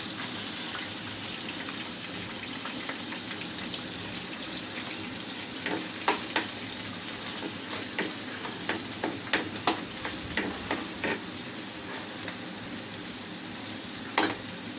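Garlic frying in cooking oil for chicken afritada, a constant soft background sizzle with scattered small pops and crackles, fairly quiet and without speech.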